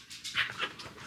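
A dog lets out a few short, high whimpers in quick succession, soft and close by, with no talking over them.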